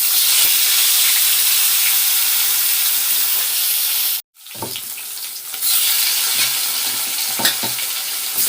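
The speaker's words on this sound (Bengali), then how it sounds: "তেলের মধ্যে আমি মাছগুলো ছেড়ে দিই" Fish sizzling loudly in hot oil, a steady hissing fry that cuts out abruptly for a moment before the crackle returns with occasional spatters and stirring clatter.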